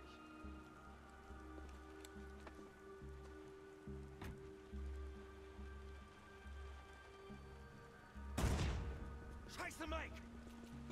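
Rain pouring in the video game Beyond: Two Souls, a constant soft patter of drops over a low droning hum, with a sudden louder crash and clatter near the end.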